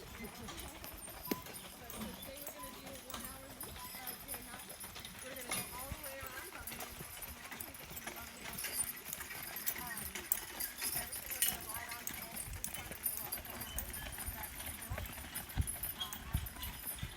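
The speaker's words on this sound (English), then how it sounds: "there's some horses." Horses pulling a cart in Acadia National Park, hooves clip-clopping in a loose, continuous rhythm, mixed with jingling and rattling, heard fairly close over a busy background.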